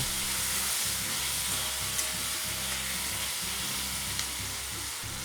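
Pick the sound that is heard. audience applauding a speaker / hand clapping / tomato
tomato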